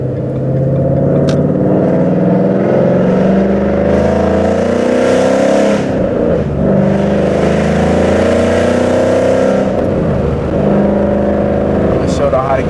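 A loud Ford Mustang GT pulls hard down a straight road, its engine roaring continuously at high level with rising revs and brief dips, like gear shifts, heard from inside the car.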